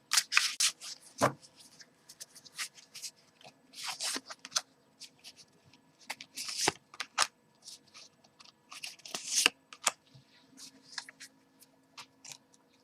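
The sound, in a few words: shuffling and pulling tarot cards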